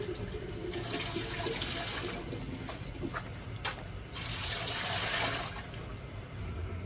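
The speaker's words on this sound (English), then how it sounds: "I'm putting warm water in the canner." Warm water runs steadily from a tap into a pressure canner while home-canning green beans, a continuous splashing gush that swells and eases over several seconds with no talk.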